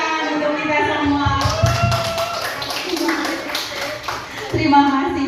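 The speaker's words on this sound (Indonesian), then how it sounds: "tepukan untuk kita semua" A group claps together at an Indonesian school dissemination session, with dense, fairly loud, steady applause that runs for about three seconds amid voices, starting and ending under speech.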